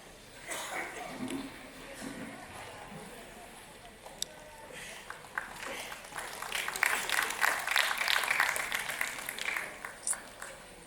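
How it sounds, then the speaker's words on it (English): Scattered audience clapping at a business panel on generative AI, fairly quiet and uneven, swelling into a denser burst of applause partway through before thinning out. "please keep the applaud going, ladies and gentlemen"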